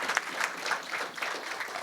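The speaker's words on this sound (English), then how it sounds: "I think Dr. Husna Tabassum deserves a big round of applause, ladies and gentlemen." An audience at a hotel event in Bengaluru claps steadily in a brief, moderately quiet burst of applause.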